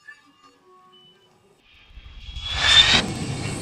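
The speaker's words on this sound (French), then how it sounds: "derrière moi, il y a un avion 0G" A zero-G parabolic flight aircraft in France, its jet engine roar swelling from near silence into a loud, broad rushing noise over the last couple of seconds.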